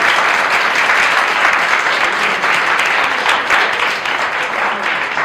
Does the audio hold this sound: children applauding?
yes